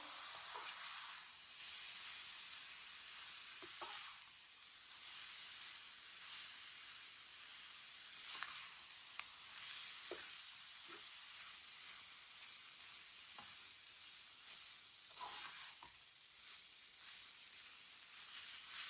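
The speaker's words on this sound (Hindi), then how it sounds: "इसे भी 3-4 मिनट के लिए भून लेंगे सूजी डाल के, ताकि सूजी का भी कच्चापन खत्म हो जाए" Semolina roasting with grated carrots in a pan for carrot halwa, giving a steady soft hiss and sizzle throughout, with a few faint scrapes now and then.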